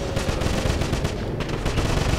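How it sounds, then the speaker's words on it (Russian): Dense, continuous gunfire fills a battle in the video game Wolfenstein, rapid overlapping shots forming a loud, steady barrage. "Хороший выстрел."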